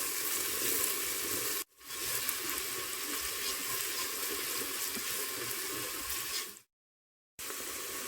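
Onions brown in a Cookeo multicooker with a steady, soft hissing sizzle, broken by two brief dropouts where the sound cuts to silence before resuming.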